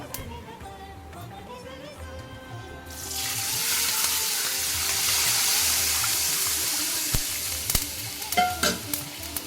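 A loud hiss erupts as water hits a hot pan of oil tempered with turmeric and neem leaves, swelling into a steady sizzling roar before tapering off with a few clanks of a utensil.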